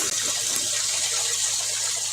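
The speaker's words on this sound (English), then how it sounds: "Fill up your Instapot with water." Water pours into an Instant Pot, a steady, close rushing gush with an even hiss throughout.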